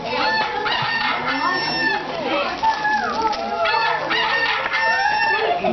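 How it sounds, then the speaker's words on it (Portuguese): A rooster crows repeatedly through a school Passion play, loud drawn-out cock-a-doodle-doo calls with clucking, heard over a noisy room with people talking. "Pedro lembrou-se das palavras de Jesus quando o galo cantou"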